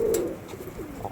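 A Mangalagiri or Andhra Lalsira pigeon coos at a loft, a short low throaty coo nearby, fairly loud at first and then softer, with no talk.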